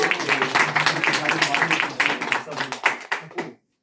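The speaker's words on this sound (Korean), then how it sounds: "박수 한번 하나님께" A church congregation claps together during a sermon, producing dense, steady applause at moderate volume for about three and a half seconds before it stops abruptly.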